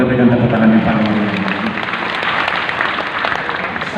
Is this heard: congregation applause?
yes